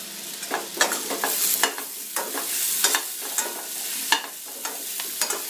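Curry leaves added to masala kozhukattai in a hot pan, with steady sizzling and frying under repeated scraping stirs of a spoon, close and moderately loud, no voices.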